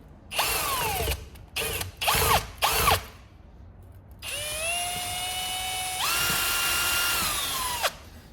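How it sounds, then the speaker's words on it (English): A wire brush wheel on a drill cleans screw heads on a Titan Wagner sprayer housing: several short whirring bursts, then one longer continuous high-pitched spin that stops abruptly, close up and with no talk. "So just going to give these screw heads a bit of a clean. Just with the wire brush, wire wheel."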